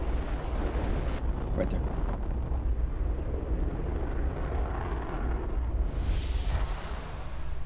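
A rocket engine test firing in the video game Fallout gives a steady, loud, wide rumble with a roaring hiss that runs through the whole stretch, and a brief voice speaks over it.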